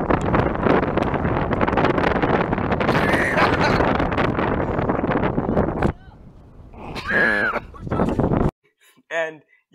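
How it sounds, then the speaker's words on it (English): Strong, steady wind roars and buffets the microphone outdoors on a river canoe camping trip while friends carry tents, with voices and a brief quieter lull before the gusts return and cut off. "my friend Walker and my friend Brennan trying to carry my dad and I's tents in the wind because they had volunteered to do it"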